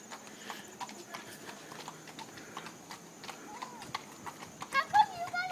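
Horses and ponies walk along, their hooves clip-clopping in a steady irregular rhythm close by, with people talking over the sound.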